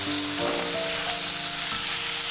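Tomatoes frying with onions in a pan for chicken dum biryani, a loud close continuous sizzle with a steady hiss and occasional stirring sounds.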